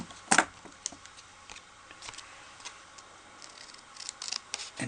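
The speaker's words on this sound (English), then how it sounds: "So I'm going to grab my scissors" Scissors trim the edges of paper for a stamped Asian-themed Father's Day card, one sharp close snip followed by quieter scattered cuts and clicks, with no talking.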